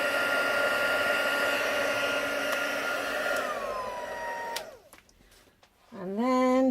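A heat tool blows a steady, loud whirring hum while heat embossing a Stampin' Up! card, then switches off and winds down into a near-silent pause before starting up again.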